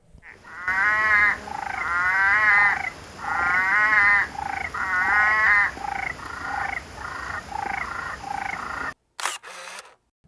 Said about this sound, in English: All of that rain brought the frogs out.